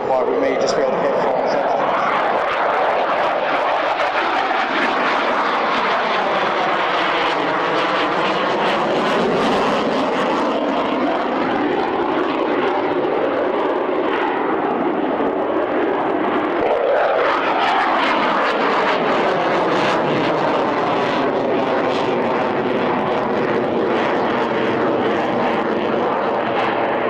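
A Hercules transport aircraft flies a display at an air tattoo, its propeller engines droning loudly and continuously as it passes, rising and falling with the flyby; a commentator talks over the roar throughout.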